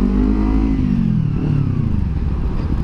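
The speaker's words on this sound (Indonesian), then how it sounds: "Tapi yang spesial dari motor ini menurut gue adalah suaranya sih." Kawasaki Ninja two-cylinder motorcycle engine, a loud close throaty drone that falls in pitch as the revs drop off, with mechanical clatter underneath.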